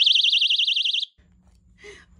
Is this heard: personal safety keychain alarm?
yes